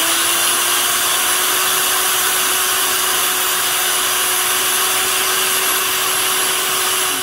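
A fast-spinning metal cutting wheel grinds through braided RC boat flex cable, giving a loud, steady high-pitched whine with a constant tone that holds unbroken throughout.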